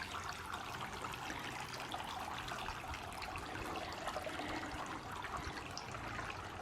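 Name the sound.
water trickling from a solar garden water feature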